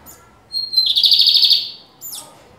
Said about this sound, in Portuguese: Pra ver o que é um bigodeiro de verdade.